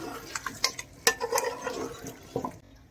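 Taro root being stirred into mutton gravy in a pot, giving close, intermittent wet clicks, scrapes and sloshing knocks over a few seconds, then going quiet.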